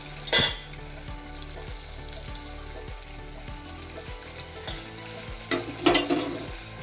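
Chopped vegetables sautéing in a pan, a close sizzle under repeated scraping stirs of a utensil against the metal, with a few louder clatters near the start and end and no talk.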